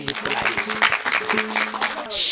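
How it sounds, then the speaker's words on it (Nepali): An audience applauds after a Nepali dohori duet, clapping steadily while a voice talks over the top. A louder, brief swell arrives at the very end. "जोरदार ताली दिउँ दोहोरी गीतको लागि।"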